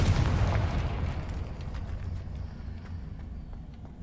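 A fiery Confringo spell blast in the Hogwarts Legacy video game: a loud, booming burst with heavy low rumble at the start that slowly fades into a long decaying roar.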